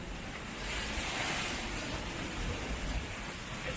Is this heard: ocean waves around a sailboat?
yes